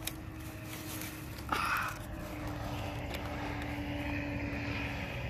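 An RC MiG 15 jet powered by an electric ducted fan gives off a steady whooshing whine that stays at a moderate distance, with a brief louder burst partway through.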